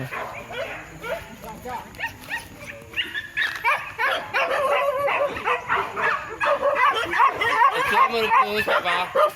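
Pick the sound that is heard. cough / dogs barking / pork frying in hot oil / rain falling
dogs barking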